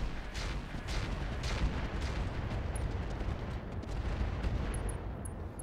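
Dense, continuous rumbling barrage of incendiary rounds fired in a video game, heavy and steady throughout with no pauses or talk.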